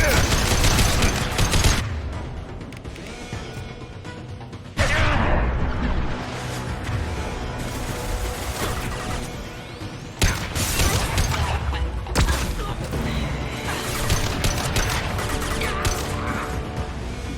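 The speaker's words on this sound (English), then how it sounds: "Taking cover. Taking heavy fire." Heavy gunfire in the video game Mass Effect 2, loud sustained bursts of automatic fire with sharp cracks and blasts, broken by sudden impacts and brief pauses, over a constant battle din.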